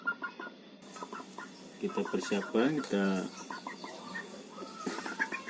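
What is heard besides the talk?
chickens clucking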